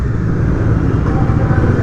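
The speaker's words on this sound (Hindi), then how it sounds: "जब इसके अंदर आकर एग्जॉस्ट के रेव करो भाई क्या साउंड आता" A Bajaj Pulsar NS400 motorcycle on its stock exhaust rumbles deep and loud inside an underpass, the engine note held steady and echoing off the enclosed walls.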